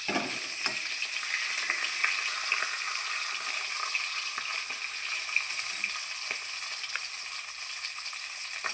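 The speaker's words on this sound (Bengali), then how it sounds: "আমার এই পিসটাও মাছ ভাজা হয়ে গেছে" Fish pieces frying in oil in a pan, a steady close bright sizzle with faint crackles running throughout, no voices.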